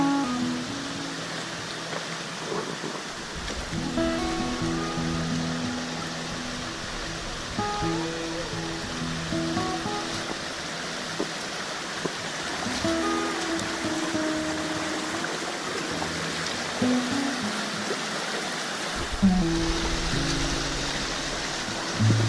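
Water flowing along a creek on a trail crossed repeatedly during a packrafting trip, a steady broadband rush that continues under the whole stretch with occasional faint knocks and tones, with no voices.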